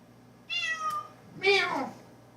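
A cat meows twice close by, a rising drawn-out call followed by a louder, higher second meow, clear and alone in a quiet room.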